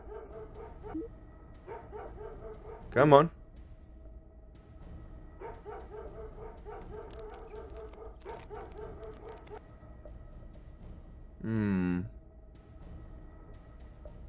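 A cartoon dog in the video game Hole Adventures gives short barks and whimpers at intervals. Two louder yelps stand out over steady game music, and a voice speaks briefly.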